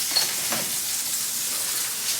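Steak sizzling in grapeseed oil in a hot pan, giving a steady broadband hiss with faint crackles, close and continuous throughout.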